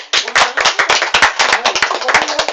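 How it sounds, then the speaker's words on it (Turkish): A small group of siblings claps by hand in a quick, uneven burst of sharp, loud slaps that keeps going without a pause, close by and with no voices. "alkış"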